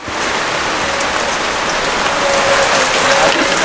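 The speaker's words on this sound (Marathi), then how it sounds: "पाऊस खूप येतोय ना बघा सगळं भिजायला लागलं वरून येते." Heavy rain pours down steadily on a camping site during a windy storm, a loud, dense, unbroken hiss of drops hitting surfaces close by.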